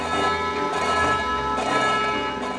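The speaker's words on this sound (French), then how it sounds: "Le son d'une cloche, c'est une note principale entourée de plusieurs harmoniques." A bronze bell rings with a bright fundamental note surrounded by shimmering overtones, struck again partway through so that fresh strikes layer over a long, sustained, resonant decay, loud and close with no voices.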